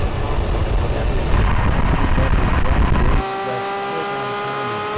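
A Porsche 911 GT3 RS and a Lamborghini V12 roar together in a drag race, loud and close, then cut abruptly to a quieter steady engine tone with a whine.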